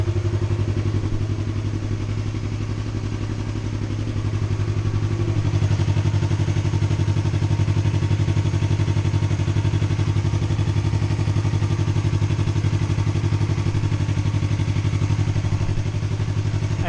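A Yamaha R3 motorcycle engine idles steadily and close by after a K&N air filter has been fitted, a constant low drone that holds on its own throughout with no talking.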